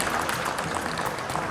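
Audience at a Hindi comic poetry stage event breaking into steady, dense applause, a continuous wash of clapping from a crowd heard at moderate distance.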